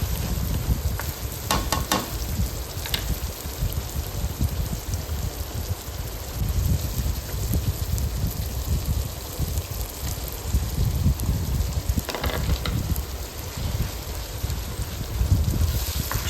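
Green chillies, curry leaves and ginger-garlic paste sizzle steadily in hot oil for a fish curry, a dense, continuous frying hiss with occasional clicks of stirring, close and fairly loud throughout.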